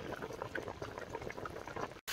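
Fresh water pours into a cooking pot for pork trotter soup with a steady, close gurgling and splashing flow that cuts off abruptly for a moment just before the end.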